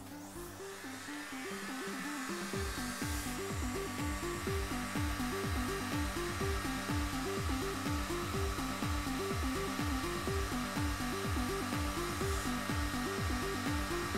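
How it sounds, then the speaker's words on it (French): Heat gun preheating parts of a 5-ton bottle jack before soldering: a steady, loud blowing whir with a rhythmic pulsing hum, starting up after a brief quiet moment and running on continuously. "je vais préchauffer l'ensemble au décapeur thermique"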